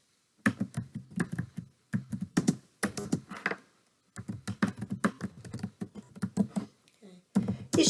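Fingers typing C++ code on a computer keyboard, clusters of close, soft key taps in bursts separated by short pauses, quiet and alone.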